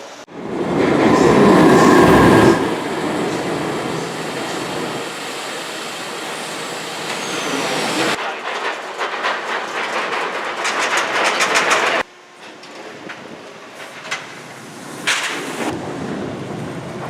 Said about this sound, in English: They will then start up this train. The train will move forward.